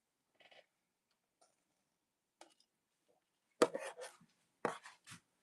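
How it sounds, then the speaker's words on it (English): Scissors snipping off a zipper edge on a fabric tote bag: a few faint scrapes early on, then louder close crisp cutting and rustling bursts toward the end, with no talk. "I'm just going to reach in here and kind of cut that out"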